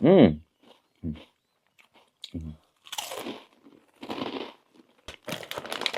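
Crispy Thai rice crackers (khao taen) being bitten and chewed up close. A brief voice comes first, then several loud, separate crunching bites follow in a rough rhythm.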